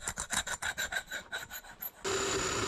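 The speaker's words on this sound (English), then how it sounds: "With a bandsaw, that's no problem, but it still takes some time to do." A bandsaw blade saws through a rectangular metal tube, giving a rhythmic rasping scrape of about a dozen even strokes, then a steadier, denser grinding hiss near the end, heard close and fairly quiet with no talking.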